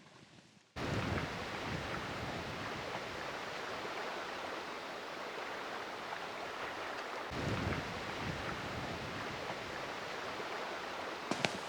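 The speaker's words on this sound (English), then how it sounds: "It's still pretty windy, but the white caps have stopped" Steady autumn wind roars and buffets over rushing water at an island near Halifax, a constant broadband wash with a gust swelling near the middle.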